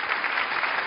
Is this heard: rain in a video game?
no